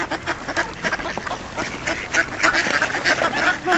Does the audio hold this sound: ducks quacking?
yes